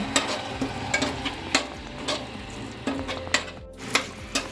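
Eggs fry with masala in a pan for egg biryani, a steady sizzle punctuated by regular scrapes and clacks of a spatula stirring against the pan, with no talking.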